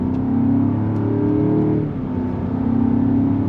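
A 2025 Land Rover Defender Octa V8 performance SUV accelerates with a loud, close engine roar that holds its pitch, dips briefly as if shifting, then pulls on again, with no voices.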